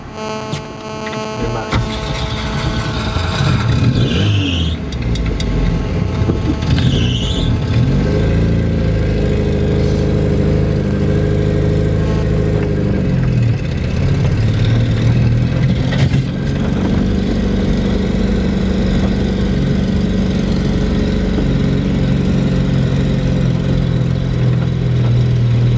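A car engine drones steadily and loudly for a long stretch up a driveway, its pitch rising and falling as it strains and revs, heard up close with no talk.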